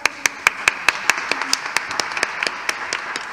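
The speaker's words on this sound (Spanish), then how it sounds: "Le damos un fuerte aplauso a Lorena" Conference attendees at an international gathering clap for the speaker Lorena, sparse individual handclaps ringing out in a steady rhythm, starting strong and then thinning into softer, scattered claps.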